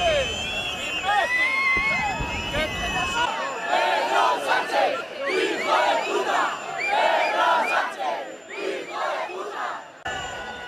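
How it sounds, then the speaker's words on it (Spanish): A large crowd boos and shouts loudly at the Spanish prime minister Pedro Sánchez during a Hispanic Day (Día de la Hispanidad) event, a dense, surging roar of jeers and yells from many voices, rising and falling throughout. "Abucheos y gritos contra el presidente del Gobierno, contra Pedro Sánchez"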